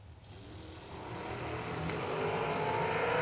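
Drag race cars at a Spring Fling event at Galot Motorsports Park roar down the track, their engine sound building steadily and growing louder over the few seconds, heard from trackside with no talk.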